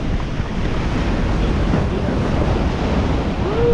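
Ocean waves surge onto a shoreline in a loud, continuous rush, heavily mixed with wind buffeting the microphone.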